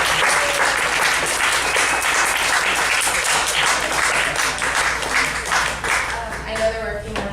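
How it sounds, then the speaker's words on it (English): Audience at a bookstore presentation in Pasadena breaks into a round of applause, dense and loud clapping that holds steady and thins out near the end, with voices starting to talk over it. "Let's give them a round of applause."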